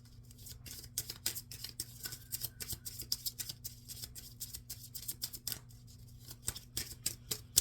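Quick papery riffles and soft snaps of tarot cards being shuffled close by repeat steadily over a low steady hum, with no talking.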